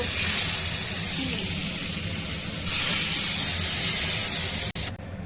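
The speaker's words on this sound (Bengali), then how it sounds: "এই বেগুন ভাজা করছি" Eggplant slices frying in a pan for a home dinner give a steady, loud broadband hiss throughout, brightening partway and cutting off briefly near the end.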